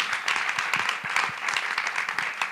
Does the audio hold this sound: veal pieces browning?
no